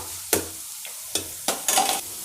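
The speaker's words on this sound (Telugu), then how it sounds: "ఇదిగోండి ఆయిల్ హీట్ ఎక్కుతుంది కదా ఆనియన్ పచ్చిమిర్చి కరేపాకు వేసేస్తున్నాను" Onion, green chili and curry leaves drop into hot oil with loud, close hissing sizzles in short bursts, stirred between surges, no voices.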